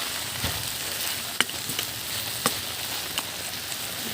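Shrimp and cabbage fry in a pan with a steady, close sizzle, punctuated by a few sharp clicks and taps of stirring.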